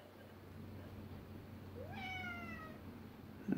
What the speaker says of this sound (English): Just my cat.